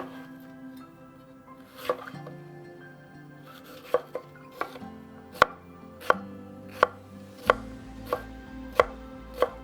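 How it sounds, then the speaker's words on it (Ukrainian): A knife chops a bell pepper steadily on a cutting board, about a dozen crisp, close knocks that grow more regular, with soft music playing underneath. "я його спочатку очищую від зайвого, нарізаю смужками і потім, відповідно, кубиками"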